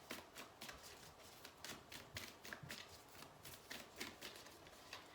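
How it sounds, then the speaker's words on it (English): Moonology Oracle deck cards being shuffled by hand, a soft papery riffling that comes and goes in brisk, repeated bursts, quiet and close, with no voices. "let's pull some cards from the Moonology Oracle deck"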